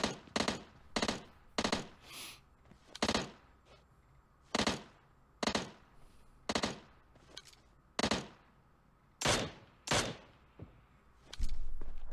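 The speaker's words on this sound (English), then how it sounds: "That SLR sounds good with a suppressor on it." Muffled suppressed SLR rifle shots in PUBG Mobile, fired singly and in quick pairs with short gaps between, crisp and fairly close.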